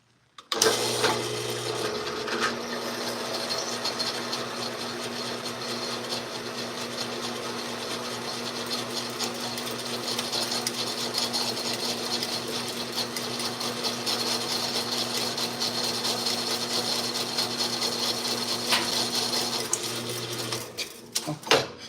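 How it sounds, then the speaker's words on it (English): A power drill with a very sharp bit grinds steadily into wood for about twenty seconds, a loud continuous whirring bore with slight shifts in pitch, stopping abruptly at the end. "That's why you keep a sharp drill bit."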